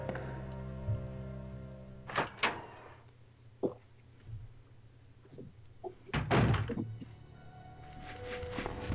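A wooden door in Resident Evil 2 thuds and creaks open in a quiet room, followed by a few scattered knocks and footfalls.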